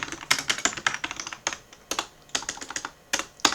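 Rapid typing on a cheap computer keyboard, with uneven bursts of close, clicky keystrokes and short pauses between them.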